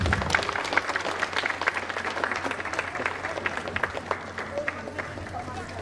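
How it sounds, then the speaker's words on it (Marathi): An audience at an Independence Day gathering applauds in a dense, continuous patter of hand claps, with crowd murmur and speech-like babble mixed in throughout. "सर्वांनी टाळ्या वाजवायच्या।"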